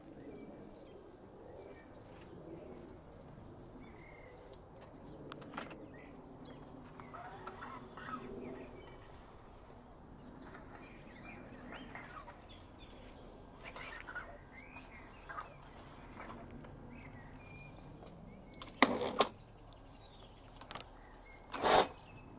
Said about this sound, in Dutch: Geniet van de vogeltjes op de achtergrond